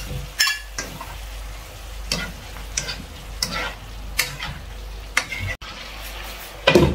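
Okra and a little tomato half-cooking in a pan, a constant soft sizzle broken by a series of spaced scraping stirs and clinks of the utensil.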